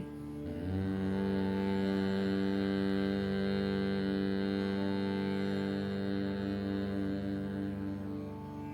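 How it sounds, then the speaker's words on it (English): Bhramari humming bee breath in a yoga session: a continuous, even, buzzing hum on the exhale, held steadily for about eight seconds, close and moderately loud, with no talking. "and exhale with the humming bee."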